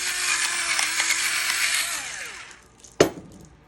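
Pepper ground from a hand mill over an iceberg salad, a steady gritty ratcheting grind lasting a few seconds, then a sharp knock as the mill is set down.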